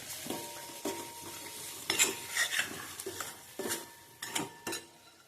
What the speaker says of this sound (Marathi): आता हे आपण व्यवस्थित परतून घेऊया